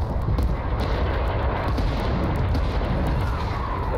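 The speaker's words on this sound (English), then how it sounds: "That's their artillery as well" Heavy artillery barrages in a war video game, a dense continuous rumble of booming detonations filling the scene at close range with no talk.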